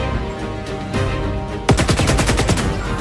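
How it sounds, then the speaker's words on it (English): Rapid gunshots from a weapon in the video game Squadron 42, a fast loud stream of sharp reports with a droning mechanical whir beneath, sparse at first and then a dense burst. "You can hear the sound of almost like a machine whirring in between the bullet shots."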